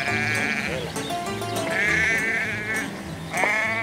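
Several sheep bleat in repeated wavering calls on a pasture, loud and close, one after another with brief gaps, livestock being driven out to graze.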